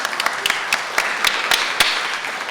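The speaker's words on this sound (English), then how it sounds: "so let's have a round of applause" An audience claps at a college drama alumni event, a thinner round of applause with several distinct sharp claps standing out near the listener above a softer crowd wash.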